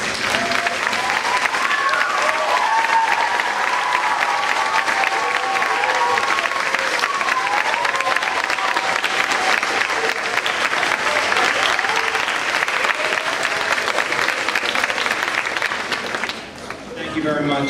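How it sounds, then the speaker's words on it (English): Elementary schoolchildren at a D.A.R.E. graduation stand and applaud two police officers, loud sustained clapping mixed with excited cheers and chatter from the crowd, dipping briefly near the end. "Kids, I want you to stand up and give a big round of applause to Officer Vic and Officer Shane."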